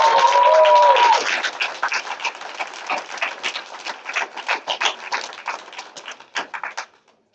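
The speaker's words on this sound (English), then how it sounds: "I think they deserve a triple applause." Audience applause at an online retail award ceremony, a burst of many hands clapping that follows a brief tone, then fades into scattered claps and trails off to silence.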